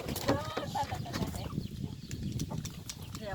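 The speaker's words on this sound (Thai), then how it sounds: "โอ้ยไก่ไก่ไก่ไก่" Chickens cluck intermittently around a rural home, mixed in with ongoing conversation and nearby household sounds.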